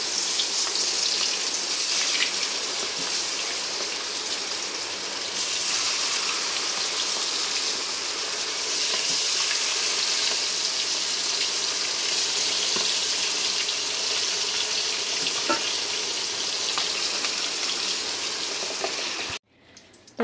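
Fish pieces frying in a pan give a steady, broad sizzle and crackle that runs almost unbroken for about nineteen seconds, then cuts off sharply near the end.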